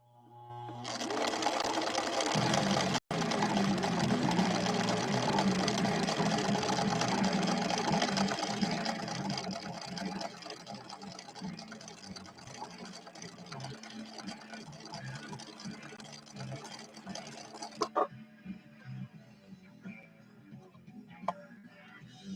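A ruby red Viking Husqvarna 6460 sewing machine, freshly repaired, stitches a wide needle-swing pattern in a loud continuous run that slows and fades to quiet, with a few ticks at the end.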